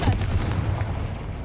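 A Confringo blasting spell explodes in the Hogwarts Legacy video game, a dense booming burst at the start that rumbles and slowly decays over a low, noisy tail.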